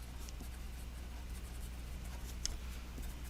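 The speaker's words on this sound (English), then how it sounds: "this is a key word that I'm about to write down here" A pen writes on paper, giving a faint, steady scratching under a low background hum, with a couple of slightly sharper strokes near the end; no speech.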